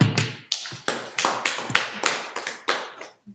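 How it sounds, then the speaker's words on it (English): A small audience at a cake-industry talk gives a short burst of sharp, separate claps, close and distinct, with no talking over them. "So clap for me."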